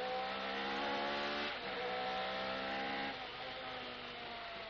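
Onboard a 1988 F3000 race car at Le Mans, the engine screams steadily at full throttle, a loud continuous high-revving drone with a slight pitch shift partway through and a gear-change dip near the end, with no voices.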